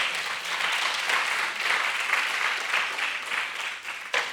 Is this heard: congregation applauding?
yes